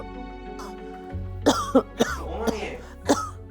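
A woman coughs and clears her throat a few times in short, close, harsh bursts over a low steady background hum, with a brief spoken word.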